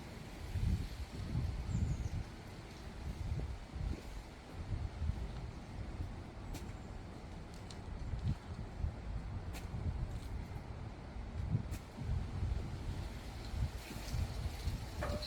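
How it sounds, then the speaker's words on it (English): Gusty wind in London buffets the microphone in low, uneven rumbles, rising and falling in strength over a faint outdoor background outside a church. "It's very, very windy today in London."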